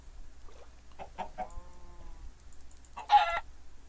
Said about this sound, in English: There's chickens over here.